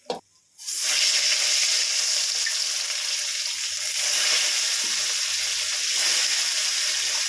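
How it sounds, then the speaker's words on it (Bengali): Bata fish sizzles in hot oil, a loud, steady hiss of frying that bursts in after a short clatter and carries on unbroken close by. "আমি আবারও ওই তেলে আর বাকি মাছগুলো দিয়ে দিচ্ছি"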